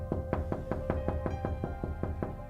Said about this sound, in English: Something was tapping at its door.